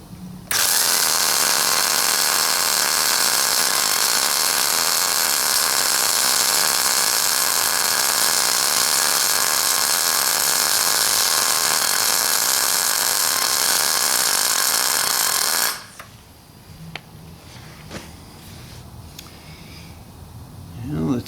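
Arc welder running a bead on 1/4 inch steel at 100 amps in an automotive shop, a loud steady hiss and crackle for about fifteen seconds before cutting off to quiet room noise.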